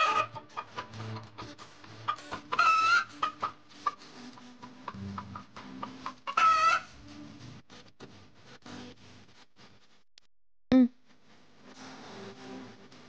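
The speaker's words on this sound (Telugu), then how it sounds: "ఈ 2 పెట్టలు పుంజుని చూస్తే భయంతో పారిపోతున్నాయమ్మా" Hens and a rooster cluck in repeated short calls, with a couple of louder squawks standing out over a busy background of voices and movement.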